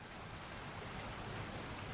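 A waterfall in the video game Elden Ring: a steady, full rushing roar of falling water that holds at an even level throughout with no speech.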